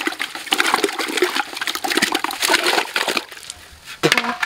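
Water sloshing and splashing in a bucket as sand is stirred and washed by hand, uneven bursts of swishing liquid with short pauses in between, close and fairly loud with no talking.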